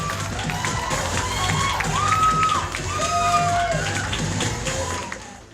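Applause and cheering from the audience at a Miss Vancouver 2015 pageant as the first contestant enters the top five, a steady, dense roar of crowd noise with whoops, lasting several seconds before fading slightly.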